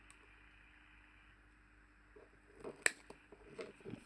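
A small part is snipped with scissors during a Sony Walkman WM-50 repair, a quiet close-up scene with a single crisp snip followed by a few faint handling clicks.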